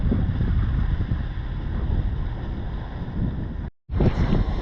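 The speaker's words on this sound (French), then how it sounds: "Les vagues sont de retour, on ouvre les voiles." Wind and waves buffet a sailboat on the Caribbean Sea, a constant loud rushing wash with gusty swells, briefly cut to silence near the end before resuming.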